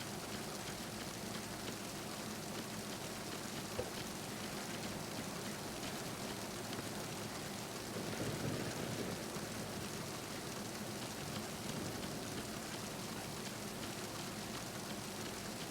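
Steady rain falls in the Metal Gear Solid 2 video game, a soft, constant hiss of drops with a faint swell midway and no other sounds.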